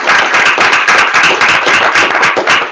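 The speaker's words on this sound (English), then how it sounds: "I think we should give a final clap to our speakers." An audience claps steadily and loudly for the speakers at the close of a debate on private schooling, with dense, continuous applause and no voices over it.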